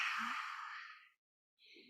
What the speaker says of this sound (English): Let's take together one lion's breath.